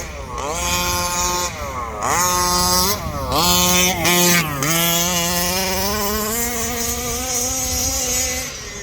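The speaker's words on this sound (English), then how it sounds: "See, it's driving right now, it's going into the wind." A Rovan Baja 5T RC car with a 36cc gas engine runs at full throttle outdoors, a loud, buzzing two-stroke whine that rises and falls in pitch repeatedly, then holds a steady climbing drone, close and continuous.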